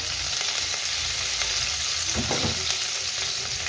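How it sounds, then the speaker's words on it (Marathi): Cumin seeds and garlic sauté in hot oil for a fenugreek (methi) bhaji, giving a steady, close sizzle with a short burst of stirring partway through. "जिरे आणि लसूण असे लाल झालं, चांगलं परतून झालं"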